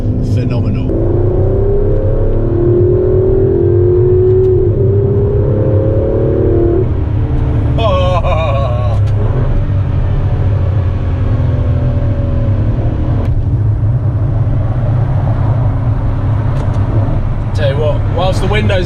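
Aston Martin DB11 engine coming down the rev range, a loud deep drone with falling tones heard from inside the car, someone talking over it.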